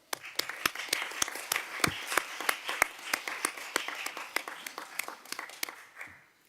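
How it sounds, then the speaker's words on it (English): An audience at the Fifth Asia-Pacific Day for the Ocean claps, with sharp individual claps in a loose, uneven rhythm that gradually thins out and stops. "So let's applaud."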